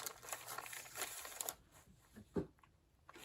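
Book paper being handled and crinkled while assembling a lap book journal page, with soft rustling and crinkling for the first second and a half, then quieter handling and one sharper crinkle near the end.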